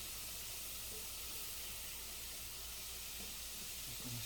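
Garlic sautéing in a pan for gumbo, a steady close sizzle and hiss running throughout at a fairly quiet level, with faint stirring clinks near the end and no talking.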